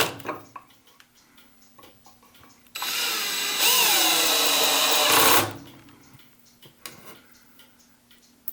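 A power screwdriver with its slip clutch set to minimum torque drives a screw into a Hermle 1050-020 clock movement, a close steady whir of about two and a half seconds that rises in pitch, set among a clock's regular ticking.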